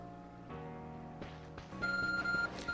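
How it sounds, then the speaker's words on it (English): Electronic beeping from the Arc Phone in the video game Pokémon Legends: Arceus, a repeated tonal chime standing out clearly over layered game music, getting louder toward the end. "Your ARC phone is beeping."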